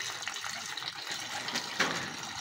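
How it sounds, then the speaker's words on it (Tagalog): Water poured into a honey mixture for racing pigeons, a steady broadband gush and trickle running throughout at close range, with faint background noise. "Lagyan natin yung tubig."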